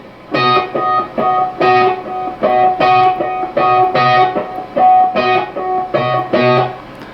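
An electric guitar plays a riff slowly, with distinct, evenly spaced sustained notes ringing out loud and clear with no talking.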